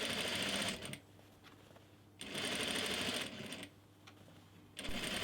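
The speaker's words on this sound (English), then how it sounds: "I'll sew a 1/4 of an inch seam allowance all the way around this armhole." Sewing machine stitching a quarter-inch seam around a sleeve armhole on a handmade dress, in two loud sustained runs with a quiet pause between them and a third run starting at the end.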